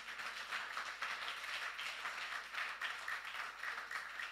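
A church congregation applauds together in steady, continuous clapping that fills the room at an even level, with no pauses.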